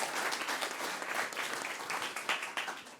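Moderately loud audience applause in a parallel session of the Eleventh EDCTP Forum conference, brief and busy with individual claps standing out.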